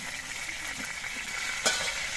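A large silver carp head sizzles in hot oil, giving a continuous close crackling hiss with one brief sharp clink of a utensil partway through; no voices.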